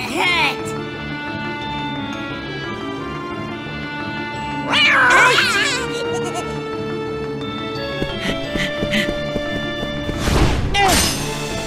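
A cat meows repeatedly in the video game Kingdom Hearts Birth by Sleep, its calls layered over steady game music, with voiced character lines and short effect bursts.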